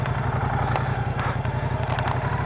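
A Moto Guzzi V100 Mandello Aviazione Navale 2023 motorcycle rides along on a damp road, its engine giving a steady, close rumble with a regular low pulse and some clatter, heard throughout.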